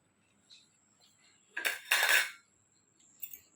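A knife slicing through set peanut barfi sweet on a plate, giving two close, brief scraping cuts with a softer tap at the end, no voices.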